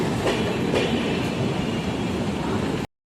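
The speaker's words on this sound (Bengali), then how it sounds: "ট্রেন ঢুকে গেল" A train arriving at a station rumbles steadily nearby, broadband rolling noise with faint wheel clatter and brief squeals, holding loud throughout before cutting off abruptly.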